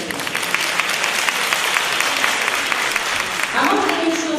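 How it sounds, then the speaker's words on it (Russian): An audience at a club meeting in a hall applauds, a dense even wash of clapping held for several seconds before a voice begins speaking near the end. "Вам аплодисменты."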